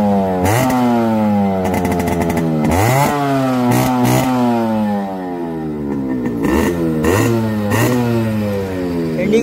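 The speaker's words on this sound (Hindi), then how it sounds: "बेटा गाड़ी स्टार्ट करो, बैठो गाड़ी के ऊपर, स्टार्ट करो। हाँ, पूरी बाइक स्टार्ट करो।" A vintage Yamaha RX100 two-stroke motorcycle revs loudly and close up, its engine climbing and dropping in repeated throttle blips with brief idling between them, without speech.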